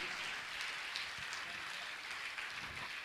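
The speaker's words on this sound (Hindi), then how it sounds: "मैं चाहूंगा जो यात्री कम से कम इनके लिए सम्मान में ताली तो बजाएं" An audience at a Jain monk's religious gathering claps in a steady, dense patter of applause, faint and distant, continuing throughout.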